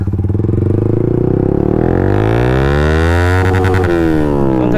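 A Yamaha MT-15 motorcycle fitted with an Akrapovic full-system exhaust, heard while riding: a loud, close, continuous engine note whose pitch climbs and falls as the rider works the throttle.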